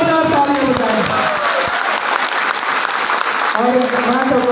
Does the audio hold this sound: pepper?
no